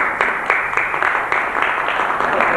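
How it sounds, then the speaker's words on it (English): Conference audience applauding a paper presentation at a textile institute world conference, a steady dense patter of many hands clapping throughout, moderately loud with a few sharper individual claps. "give you an opportunity to give a round of applause to Jimmy Lamb for the first paper."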